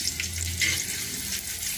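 About a quarter tumbler of water is poured into hot capsicum thokku gravy in a pan, producing a steady rushing splash mixed with sizzling that continues evenly throughout, close and fairly loud.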